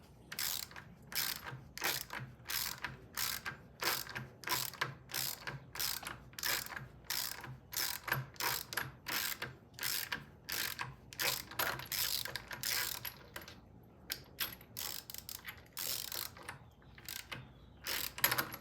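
A ratchet turns stud removers on the top end of a 1971 Norton. It gives a rapid run of sharp, repeated clicks in uneven bursts, close up, with no talk.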